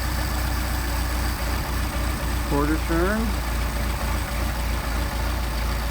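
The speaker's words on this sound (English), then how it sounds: "we picked up RPM, so we're going to decrease our idle" Air-cooled engine with a freshly adjusted Solex carburetor idles steadily and loudly up close, a low continuous rumble with light ticking, while a voice briefly rises and falls over it midway.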